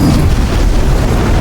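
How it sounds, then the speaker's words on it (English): Meteors slamming into the ground and exploding in the voxel destruction game Teardown, during a cataclysmic meteor storm, making a loud, continuous rumbling boom with overlapping blasts and no speech. "Cataclysmic meteor rainstorm."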